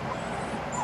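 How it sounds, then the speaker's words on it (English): Dogs whimpering at a highway rest stop on a road trip, a couple of short high whines near the end over a steady background hum of wind and traffic. "And the dogs want to go out."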